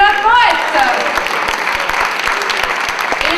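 Audience at a poetry slam competition in France applauds a poet after the scores are read, a dense burst of clapping that opens with a voice briefly overlapping and then continues steadily and loudly.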